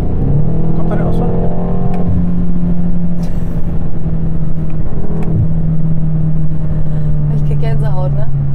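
A BMW M8's V8 hums and pulls away with a steady, sustained engine drone heard from inside the car, while people talk over it.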